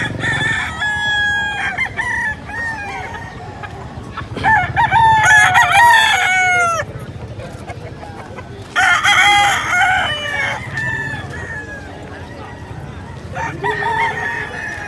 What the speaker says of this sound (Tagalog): Ayan, napakarami niyang pwedeng mabiling manok.